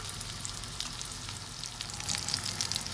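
Breaded fish pan-frying over a low flame gives off a steady, moderate sizzle with fine crackling spread across the whole stretch, growing slightly louder toward the end, with no voices.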